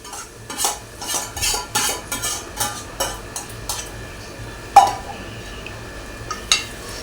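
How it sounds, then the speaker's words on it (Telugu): Minced mutton being stirred in a pan for keema, a spoon scraping and clinking against the metal in repeated strokes with a light sizzle, close and clear with one sharper clank. "ఇప్పుడు మటన్ వేసుకుంటున్నాను"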